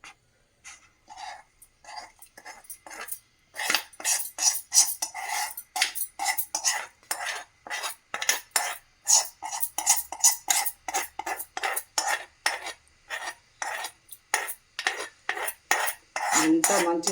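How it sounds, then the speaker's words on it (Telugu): A metal spoon stirs hot tempering into red chilli tomato chutney in a pot, giving rapid rhythmic scraping and clinking strokes that run steadily and closely throughout, with no voices. "వేడిగా ఇప్పుడు తాలింపు వేద్దామండి"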